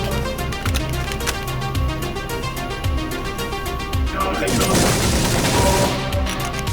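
Rapid bursts of pistol fire in the sci-fi shooter Mace Griffin: Bounty Hunter, loud repeated shots cracking over a dense bed of game music and effects throughout.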